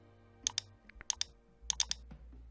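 Keys on a computer keyboard clicking in short clustered bursts of two or three presses with brief pauses between, close and crisp while entering data into an Excel spreadsheet, no voices.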